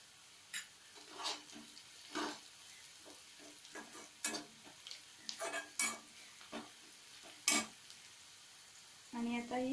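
Onions for dill sabzi fry in a pan with a faint sizzle, broken by intermittent scrapes and clinks of a spoon. A brief voice comes in at the very end.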